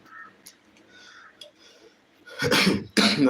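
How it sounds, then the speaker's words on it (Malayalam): Two sharp, loud coughs from a person close by near the end of the clip, after a quiet stretch while ghee payasam is being cooked. "സോറി ചുമ വന്നേനെ"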